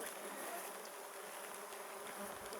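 Swarms of biting insects, such as mosquitoes and blackflies, buzzing outdoors on a hiking trip, a steady faint drone with no one speaking.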